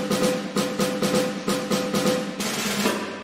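A drum is struck in a quick repeating pattern of loud, resonant beats in short groups, played alone and close without any speech.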